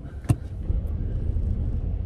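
A car is driven on a cold, rainy, dark day, its engine and tyres making a steady low rumble close by, with a brief sharp click near the start and no talking.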